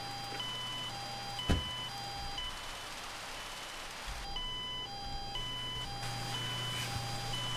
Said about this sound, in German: Das Gepiepe geht so gar nicht auf den Geist, finde ich.